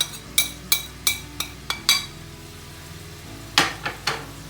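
Onions and mushrooms fry in a pan for Spanish-style rice while a utensil stirs them, giving a run of sharp, separate clinks and scrapes against the pan over a low cooking hiss. A second cluster of clinks follows after a short pause.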